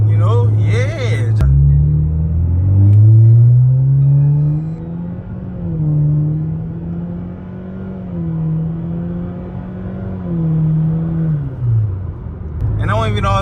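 A 2020 Chevy Malibu RS accelerates from inside the cabin, its engine note climbing and stepping through several gear shifts as a steady rising drone, with people talking briefly at the start and end.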